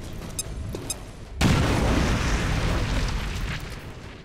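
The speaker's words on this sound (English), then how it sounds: "Incendiary grenade" An incendiary grenade bursts in XCOM Chimera Squad, a sudden loud explosion that opens into a sustained roaring, crackling wash of fire, following a few faint clicks.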